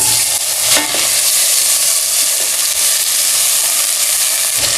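Potato pieces sauteing in a little oil for vegetable dum biryani, with a loud, dense, continuous sizzle and stirring scrape close by, no talking.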